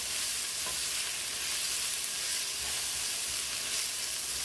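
Pork fried rice with a splash of sesame oil sizzles and hisses evenly in a pan turned down to medium, with a soft, continuous scraping as it is stirred. No one speaks.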